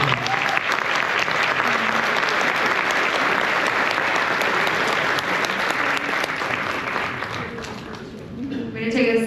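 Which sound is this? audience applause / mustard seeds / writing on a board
audience applause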